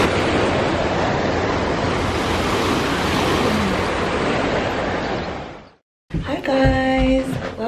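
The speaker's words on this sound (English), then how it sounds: "And then like you listen to the waves." Ocean waves break on a shore as a steady, loud wash of surf with wind noise, rolling on for nearly six seconds before cutting off, followed by a brief unrelated burst of other sound.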